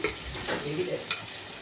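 Masala cooking down in a pan, a steady close sizzle with soft stirring scrapes running throughout, moderately quiet and without talk.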